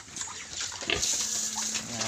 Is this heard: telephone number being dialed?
no